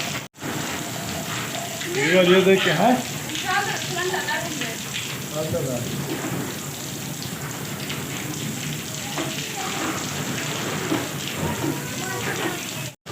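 Heavy stormy morning rain in a village pours onto a parked car, making a steady close hiss and patter throughout while someone talks over it.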